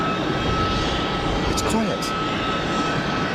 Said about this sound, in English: More aircraft on final.